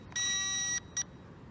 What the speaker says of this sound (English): So the remote is beeping.